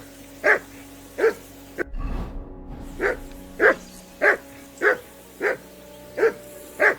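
Close, regular dog barks in the video game Kingdom Come: Deliverance II. About a dozen evenly spaced woofs are briefly broken by a low rumble and gap, with no voices over them.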